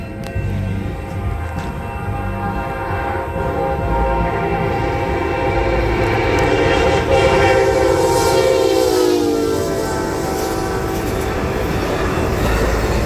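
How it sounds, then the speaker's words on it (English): An Amtrak Surfliner passenger train running southbound through the Grand Ave crossing in Carlsbad, a loud steady rumble of wheels with a horn sounding near the middle and continuing as the train passes close by. "Right, train's coming."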